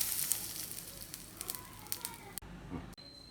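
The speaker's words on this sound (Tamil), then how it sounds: "ஸோ 2 கடுகு தாளிச்சு கொட்டிருக்கேன்." Mustard seeds sizzle and crackle as they temper in hot oil, a close, continuous frying hiss with small pops that cuts off abruptly near the end.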